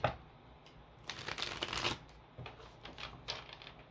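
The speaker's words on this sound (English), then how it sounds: "You get a better shuffle, Virgo." Tarot cards are shuffled up close in quick riffling bursts, with soft flicks and taps between them.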